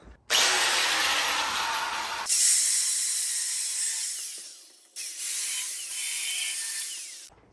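Stock sway bar bracket hooks on a Toyota 4Runner, Land Cruiser or GX being cut off with a power tool, a loud, close, steady metallic whine in three long bursts separated by brief breaks, with no talk.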